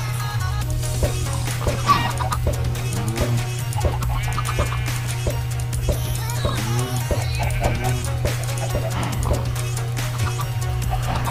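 Chickens bred in the Minecraft video game give short clucks and squawks over a steady low in-game hum, with other blips and clicks mixed in.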